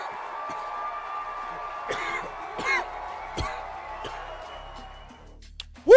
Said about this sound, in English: Still coughing off that fucking dab.